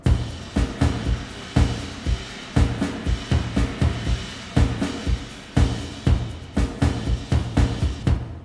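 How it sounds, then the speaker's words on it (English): Layered percussion groove: deep taiko drum hits land in a steady rhythm under a constant bright wash of shakers and hi-hats, with occasional cymbal crashes. "I added hi-hats and some shakers to give it a bit more messiness in the high end"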